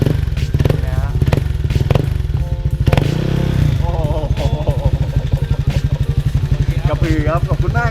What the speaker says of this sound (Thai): นี่ครับเสียงท่อนะฮะ